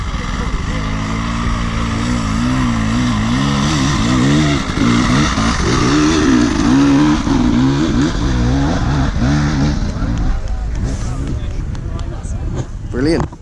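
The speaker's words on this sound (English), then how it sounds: "Here comes a two-stroke." A two-stroke trials motorcycle at the Land's End Trial runs close by with a loud, buzzing engine note that rises and wavers, then fades as it pulls away, with wind noise on the microphone.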